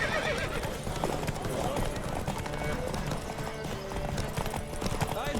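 A horse in The Witcher 3 gallops with fast, steady hoofbeats and lets out a whinny, under game music and a rider's voice.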